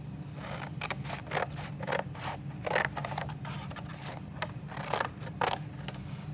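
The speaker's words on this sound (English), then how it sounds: "I'll take my scissors" Close scissors snipping, a steady series of short crisp cuts repeating roughly every half second over a low background hum.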